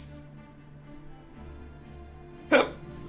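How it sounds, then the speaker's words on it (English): During a tabletop role-playing game session, a single sharp hiccup pops out against a low background hum, brief and fairly close. "It got me. Oh, the hiccups."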